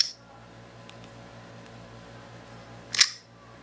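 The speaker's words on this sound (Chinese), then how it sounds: "这样是解锁，这样是所谓解锁的声音。" Screen unlock sound of a Tianyi C18 mobile phone: one short, sharp click-like chime near the end, close and distinct, over a faint steady background hum.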